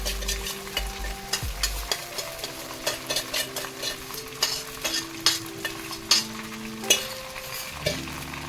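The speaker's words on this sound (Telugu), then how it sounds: "ఆ సేమ్ బాళీలోనే కొంచెం నూనె వేసి ఇప్పుడు ఈ సగ్గుబియ్యం అంతా వేసేద్దాం." Soaked sago frying in a little oil in a pan, a steady soft sizzle broken by repeated spoon scrapes and taps against the pan, close and alone without talk.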